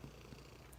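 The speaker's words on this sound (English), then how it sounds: "she purrs. You can hear her purring." A seven-year-old overweight pet cat purrs softly and continuously up close, a faint low rumbling with a steady rhythmic texture and no other sounds.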